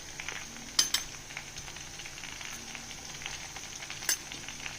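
Garlic frying in a pan with a spoonful of turmeric and chili powder added, a steady soft sizzle throughout, with a couple of sharp clinks from a spoon against the pan.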